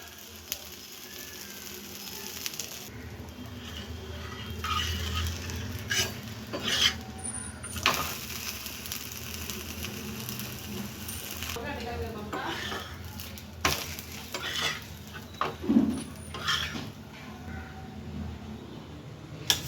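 A crisp wheat dosa with onion, ginger, green chilli and coriander cooks on a pan with a little oil, giving a steady low sizzle under repeated scraping and rubbing of a spatula against the metal, with faint clinks and brief voices.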